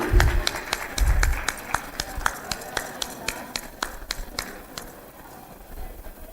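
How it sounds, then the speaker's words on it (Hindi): Audience applause at a Women's Day 2022 event after a fashion show prize is announced: scattered, fairly close claps with a brief fuller burst early on, thinning toward the end. "तालियां तो बजाइए, तालियां रुकनी नहीं चाहिए आपकी।"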